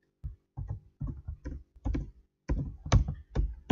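A computer keyboard is typed on in irregular bursts of close, crisp key clicks and thunks, alone without speech.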